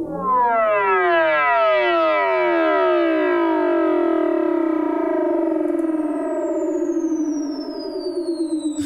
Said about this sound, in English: you get this kind of cascading thing where you get the operator is going up in pitch, but the delay is going down, and you get this kind of cool sound